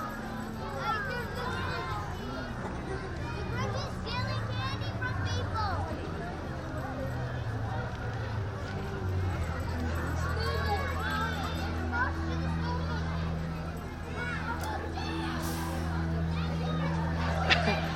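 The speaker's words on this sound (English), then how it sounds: "I hear kids yelling, "The Grinch, the Grinch."" Children yell and cheer amid a dense crowd hubbub at a Christmas Santa parade on 3rd Street in a historic downtown, with scattered excited voices, footsteps and steady low rumble throughout.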